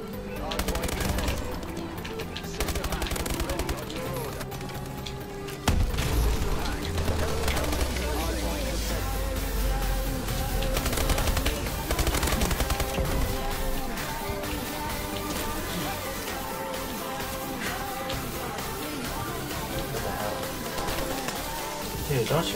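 Sustained automatic gunfire and explosions from a video game match go on for over twenty seconds, loud and dense, while a player talks over the action.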